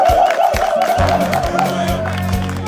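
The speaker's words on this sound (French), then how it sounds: "On applaudit pour ça." An audience at a live comedy show claps and cheers, a steady wash of crowd noise with a sustained tone running through it, loud and continuous throughout.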